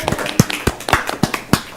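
A few people clap at a school board meeting, making sharp, fairly evenly spaced claps close by in a short, brisk sequence.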